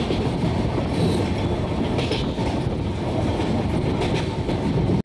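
Samaleswari Express, the Howrah to Jagdalpur train, running on rails near Hirakud station by the Mahanadi reservoir, with a loud, steady rumble and rattle of the cars and no voices.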